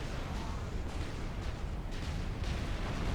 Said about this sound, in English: These bombers just bombing the Witcher into oblivion.